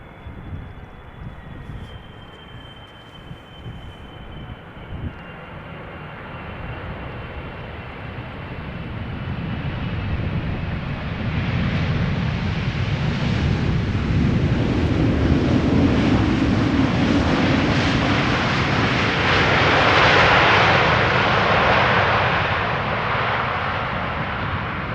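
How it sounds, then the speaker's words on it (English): KLM Boeing 777-300ER jet arriving at Amsterdam Schiphol, a rising rumbling roar that swells from a distant hum into a loud, broad jet blast as the aircraft passes, with no voices. "This is KLM Flight 792, 777-300ER, arriving from Sao Paulo."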